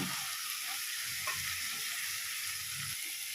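A spice paste of cumin, coriander and chilli with a little water fries steadily in a pan, giving a constant close sizzle with soft scraping stirs throughout and no voices.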